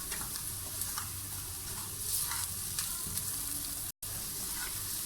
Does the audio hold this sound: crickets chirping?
no